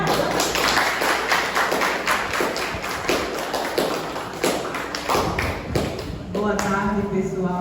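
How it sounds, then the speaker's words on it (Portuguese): Applause at a virtual heritage seminar: a few seconds of dense, even clapping that fades out before a voice begins speaking. "Salva de palmas para ela."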